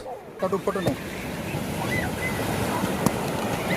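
Sea waves roll and wash in at Kovalam beach, a continuous broad surf roar with wind buffeting the microphone, and brief voices talking near the start.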